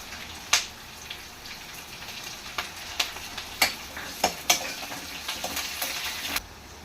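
Curry leaves crackle and sizzle in hot oil for Andhra-style ulava charu, a steady hiss broken by sharp spitting pops at irregular intervals, close up with no voices.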